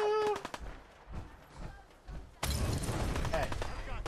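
Gatling gun in Fallout, rapid sustained firing bursting in loudly partway through after quieter thuds and talk, continuing as a dense roar to the end.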